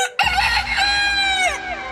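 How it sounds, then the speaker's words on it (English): A rooster crows loudly and close by, one long drawn-out call with a rising then falling pitch, heard clearly on its own. "the rooster crowed"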